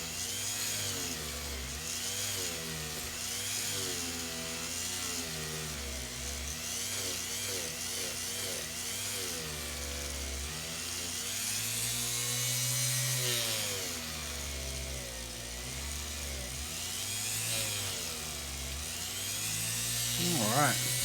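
A rotary tool at low speed polishes the feed ramp of a 1911 pistol barrel, giving a steady, close, whining drone that holds an even pitch for the whole stretch while someone talks over it.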